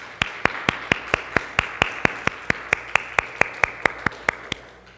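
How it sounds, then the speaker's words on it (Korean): A church congregation claps together in a steady rhythmic beat, about twenty sharp, evenly spaced claps in unison, moderately close and fading slightly toward the end. "우리 같이 박수하시겠습니다"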